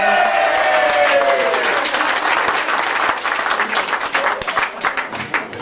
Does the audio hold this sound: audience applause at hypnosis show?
yes